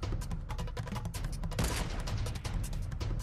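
A sniper rifle battle in Fortnite gives dense, repeated gunfire cracks with a sharp louder burst partway through, steady and moderately close, with no talking.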